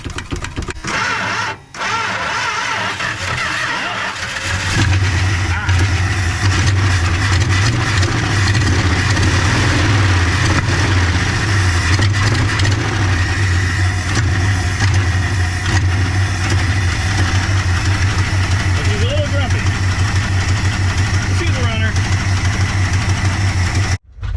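A 1970 Dodge D300 dump truck engine cranks, catches after a few seconds and settles into a loud, steady, slightly rough idle that runs on close by.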